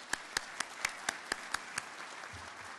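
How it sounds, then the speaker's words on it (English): A few distinct, evenly spaced claps, about eight in a row, faint and fairly distant, at a county State of the County address, then stopping. "I just really want to give another round of applause for them"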